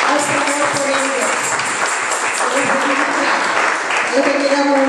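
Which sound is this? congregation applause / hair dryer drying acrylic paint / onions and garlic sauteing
congregation applause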